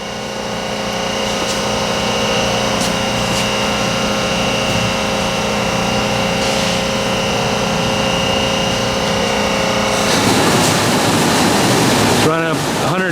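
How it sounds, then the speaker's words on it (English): An electric-motor-driven hydraulic shear runs in a metals factory, giving a loud, steady mechanical hum with tonal whine for the whole stretch. The tone grows rougher near the end, and a few brief rising sweeps follow. "It's got a hydraulic shear with electric motor for driving it."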